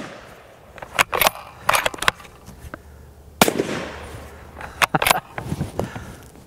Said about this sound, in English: what you hear in my videos when I shoot suppressed is gonna sound louder than you'll hear